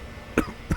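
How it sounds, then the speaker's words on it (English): Two short, hoarse coughs a fraction of a second apart, close and fairly loud, from a man doubled over a hotel bathroom sink in a dramatized scene. "gripping its edges as he continues to cough."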